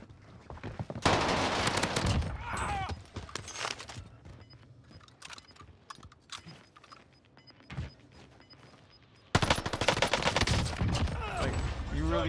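Bursts of rapid automatic fire from an MP40 submachine gun in Warzone, loud and close, with a quieter stretch of scattered shots and faint game sounds between two dense volleys, plus some speech.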